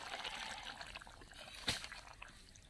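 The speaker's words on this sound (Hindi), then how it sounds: "इसमें डालेंगे थोड़ा सा पानी।" Water poured into a tomato curry cooking in a kadai gives a soft, steady trickle with a brief louder splash partway through, quiet and close, with no talking.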